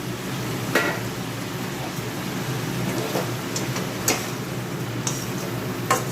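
Small mourola fish fry in a pan with cumin powder and spices, a continuous close hiss broken by occasional sharp pops and ticks.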